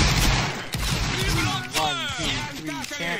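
Musket volley fired by a line of players in a Roblox Napoleonic Wars battle, a dense crackle of overlapping shots at the start, with shouted voices talking over it.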